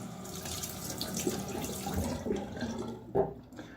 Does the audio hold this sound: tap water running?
yes